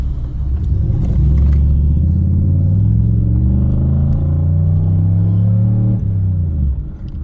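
A 2006 Chevrolet Monte Carlo SS engine roars and climbs in pitch as it accelerates hard after a transmission repair, a loud, close rumble sustained for several seconds before easing off.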